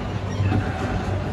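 A small toy train inside a shopping mall starting to move, giving a steady low rumbling hum of rolling wheels and motor, close and continuous, with no talk.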